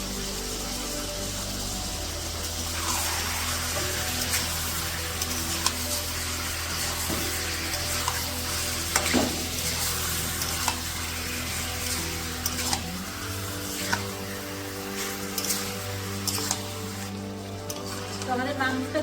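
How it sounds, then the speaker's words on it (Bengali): Chicken meat frying in oil with a soft continuous sizzle and occasional scraping stirs and clinks, faint under a low steady background hum. "তো আমাদের মাংসটা কিন্তু ভাজা হয়ে এসেছে"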